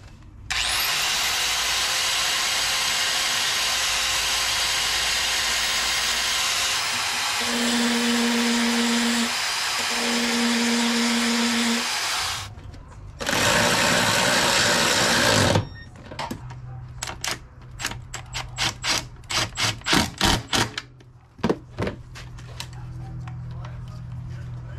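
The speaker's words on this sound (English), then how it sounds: "I'm going to go ahead and hit it with my belt sander" A belt sander works on a billet brake and clutch master cylinder reservoir with a loud, steady motor whir for about twelve seconds. The whir cuts off, then a short roaring burst follows, and a string of sharp clattering knocks trails off.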